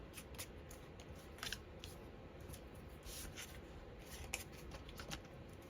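Scissors snip through fabric scraps in short, faint crisp cuts, a scattered handful close by against a quiet background hiss.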